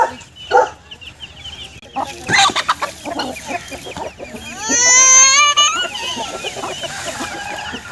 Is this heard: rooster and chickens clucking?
yes